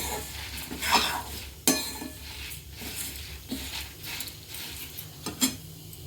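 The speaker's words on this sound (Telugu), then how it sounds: "బాగా రోజ్ కలర్ వచ్చేదాకా వేయించుకుందాం." Lentils and spices stirred around a hot dry pan for kandi podi, giving intermittent scraping and rattling clicks with a few sharper knocks against the metal, fairly close, with no talking.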